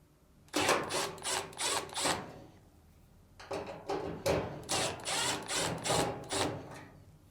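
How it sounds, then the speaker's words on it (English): Screws being removed from the upper frame plate of a Samsung dryer with a power driver, two bursts of rapid whirring and rattling separated by a short pause, close and fairly loud. "Next, remove the screws on the upper frame plate."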